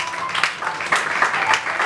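A church congregation at a Sunday worship service applauds and cheers together in steady, dense clapping that surges in several waves, with faint voices mixed in.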